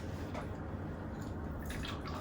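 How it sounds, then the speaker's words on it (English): A shaken French 75 cocktail poured from a shaker into two glasses, a close, steady liquid pour with light splashing and a brief dripping tail, no talking. "we're just gonna pour this into 2 glasses"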